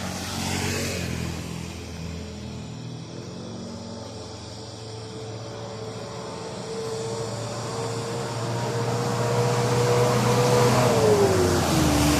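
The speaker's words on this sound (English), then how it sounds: "So this bike is a Honda Click. It's 125cc." A Honda Click 125cc motorbike on a provincial road trip in the Philippines: a steady, continuous engine drone mixed with road and wind noise, swelling slightly toward the end.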